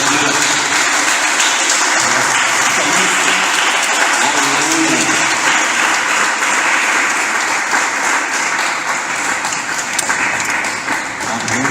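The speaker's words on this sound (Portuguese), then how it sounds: "Quem pode aplaudir." A church congregation applauds after a prayer, dense continuous clapping that fills the room at steady volume, with faint voices mixed in before it slowly eases off near the end.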